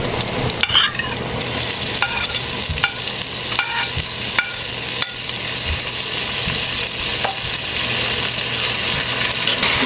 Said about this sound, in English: Now go ahead and cook your garlic and pimento and onions for an extra 4 to 5 minutes, very low heat.